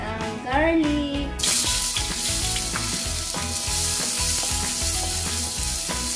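Garlic hits a hot pan for fish curry with eggplant and breaks into a loud, steady sizzle that holds strong throughout, with some clatter and background music-like tones underneath.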